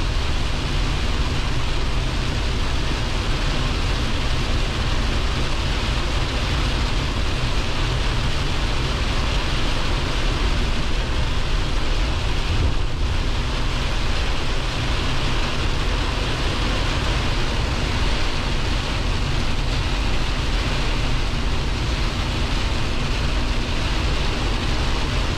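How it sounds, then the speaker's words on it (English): Rain falls steadily during a drive in a cargo van, a dense, even hiss mixed with road and engine rumble that holds for the whole stretch. "It was getting better and better, and then all of a sudden it just started again. A little fog, a little rain."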